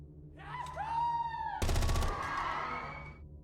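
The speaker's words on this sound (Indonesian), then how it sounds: "para militan lantas membalas dengan tembakan" A burst of rapid gunfire from a scene in Alice in Borderland rattles out for about half a second, loud and close, set against a wavering high tone.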